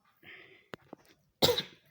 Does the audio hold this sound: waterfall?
no